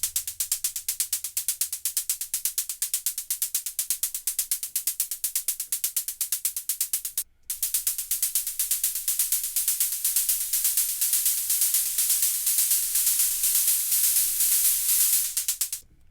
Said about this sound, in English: I use operator a lot, but I use it for shaker sounds, which sound like this.